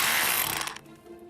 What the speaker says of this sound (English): I'm going to put a couple more holes in here. Where this is now, we're hammering it out.